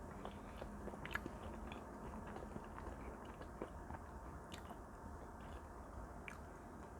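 Someone eating blueberry pancakes with maple syrup close to the microphone, with soft, quiet bites and chewing squishes over a faint, steady background hiss, with no talking.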